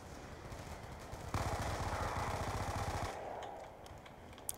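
A sustained burst of automatic gunfire in Call of Duty Black Ops 2 multiplayer rattles steadily for a couple of seconds, fairly faint amid game background noise, with no talk over it.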